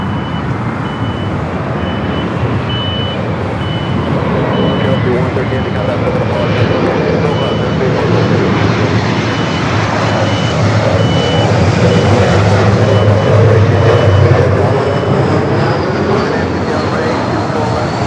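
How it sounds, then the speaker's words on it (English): A United Boeing Dreamliner bound for Tokyo Haneda takes off at LAX, its jet engine roaring as a loud, steady wash of broadband noise that swells slightly midway, with airport radio chatter and talk mixed over it. "Dreamliner cleared for takeoff heading to Tokyo Haneda"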